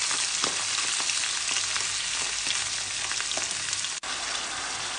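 Pork frying in a hot wok, a loud steady hiss and crackle of oil with occasional stirring scrapes, close up and continuous with one brief dropout near the end, no voices.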